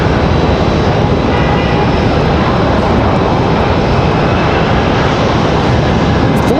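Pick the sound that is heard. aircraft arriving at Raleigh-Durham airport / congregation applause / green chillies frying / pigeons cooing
aircraft arriving at Raleigh-Durham airport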